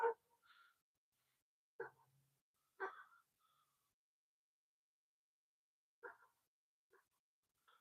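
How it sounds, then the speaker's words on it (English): Several dogs give short, scattered barks and snorts, spaced out over a few seconds with quiet gaps between them, moderately close and not loud. "You're making the other dogs bark."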